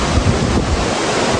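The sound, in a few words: Vasundhara waterfall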